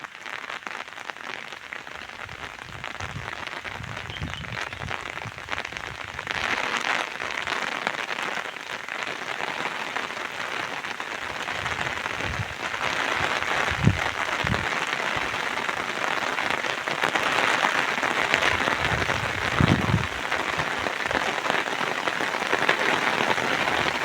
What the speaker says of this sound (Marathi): हा बघा इकडनं पाऊस किती लागत येतोय.